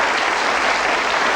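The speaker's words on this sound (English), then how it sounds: "I think that's worth a round of applause." The studio audience of the Bullseye TV game show claps in a dense, continuous burst of applause, loud and brief.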